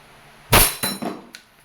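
A WE Allosaurus airsoft gun firing BBs on semi-automatic: three sharp, close shots spaced unevenly over under a second, then a fainter click, with no talking.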